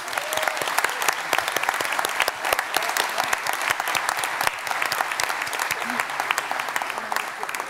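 Applause from an audience at a civic and community awards ceremony, steady and dense clapping for the full length, fairly close and loud, with no talk over it.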